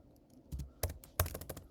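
Fingers tap out a quick burst of keystrokes on a computer keyboard, a dozen or so crisp clicks in uneven clusters, close and fairly quiet with no talking.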